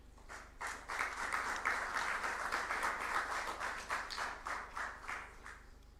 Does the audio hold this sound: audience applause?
yes